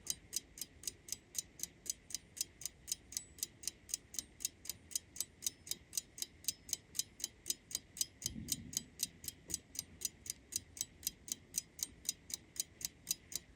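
Restored Ansonia tombstone novelty clock ticking, a crisp, evenly spaced tick about every quarter second, close and clear throughout, with a soft low thump midway.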